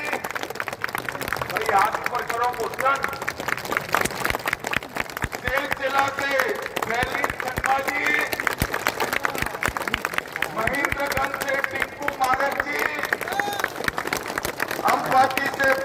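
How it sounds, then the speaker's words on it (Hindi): Crowd applause at a BJP public meeting in Ambari, South West Garo Hills, Meghalaya, with sustained clapping across the whole stretch mixed with crowd babble and a voice on the public address. "जोर से ताली बजाइए दीपुल जी के लिए"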